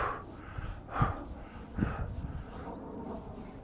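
Breathing during a side-to-side reaching shoulder stretch in a tennis warmup: two distinct, close exhalations a second or so apart, soft and airy over a quiet room, with no talking.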